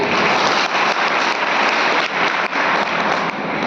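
A large crowd at a political gathering for Pramod Lodhi breaks into loud, dense applause, steady and close for the whole stretch with no talking over it.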